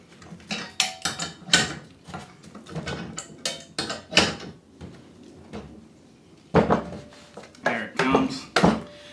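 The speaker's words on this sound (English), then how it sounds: "You can hear it popping as it's coming along. Don't worry, you're not breaking anything. That's just the bearing popping and sliding down the crank." An engine bearing popping and sliding down the crankshaft as it is pushed off, a series of close, sharp metallic pops and knocks in uneven bursts separated by brief quiet gaps.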